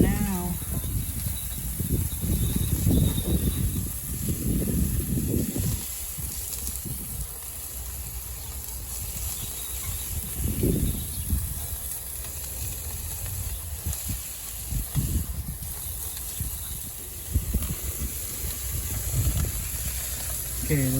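Spanish kabobs with onions sizzling on a cooking surface, a steady broadband hiss running throughout with occasional louder bursts of crackle, continuous and fairly close.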